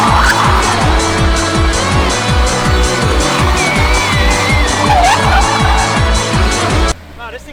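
A car slides sideways on a track, tires squealing in wavering bursts over a rapidly pulsing engine note, loud and close throughout, ending abruptly near the end.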